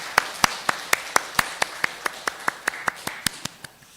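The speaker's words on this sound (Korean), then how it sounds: "감사의 박수 올리겠습니다." Steady, evenly spaced claps ring out in a church service, about four per second, crisp and fairly close, holding a regular beat for several seconds before softening at the end.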